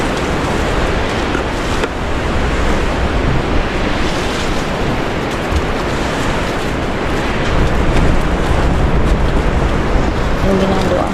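A strong typhoon roars with dense wind and rain, a loud continuous wash of noise buffeting the microphone throughout, with faint voices beneath it.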